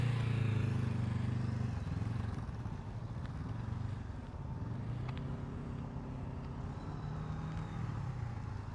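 A motorcycle engine is held at high revs during slow-speed riding practice, giving a steady, moderately distant drone with slight rises and dips in pitch and no talk.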